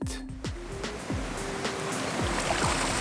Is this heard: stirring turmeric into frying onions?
no